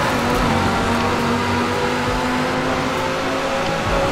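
Engine of the 2058 Quadra Turbo R V-Tech at top speed in Forza Horizon 4, with full upgrades, a loud, steady high-speed drone that holds throughout without letting up.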